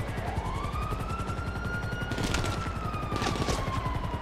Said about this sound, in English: Who's that still shooting?